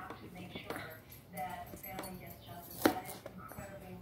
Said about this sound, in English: So right now we're dicing the onions.